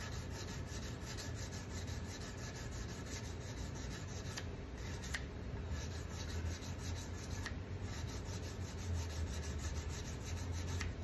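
Guitar frets on a Les Paul build kit are polished smooth with steady, fine rubbing strokes, faint and close, continuing evenly without any talking.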